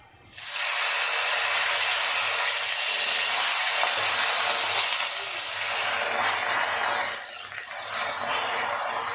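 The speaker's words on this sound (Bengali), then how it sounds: "এবার এই কড়াইয়ে আমি পাতাগুলো একটু ভেজে দেব" Pumpkin leaves frying in a wok of oil with onions, a loud steady hiss and sizzle that holds from just after the start to the end, with no talking.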